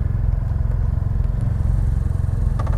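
Steady low rumble of a BMW F800R motorcycle engine running, a continuous throbbing drone close by, with a few faint clicks near the end.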